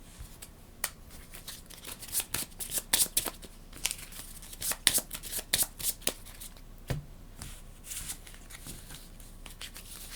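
Cards for the Imperium Horizons board game are flipped, slid and shuffled by hand on a table. Soft papery snaps and riffles come close in irregular bursts against a quiet room hiss.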